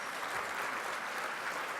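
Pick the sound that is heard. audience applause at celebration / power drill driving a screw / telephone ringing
audience applause at celebration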